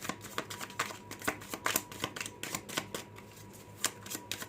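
Tarot cards being shuffled by hand, a quick run of crisp riffling snaps and flutters at close range with no voice over them.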